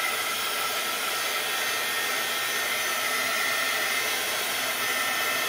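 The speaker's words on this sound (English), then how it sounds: "Okay, let's do some drying" Steady, continuous whooshing roar of a hair dryer blowing on mixed media art tags, loud and unbroken throughout with no talking.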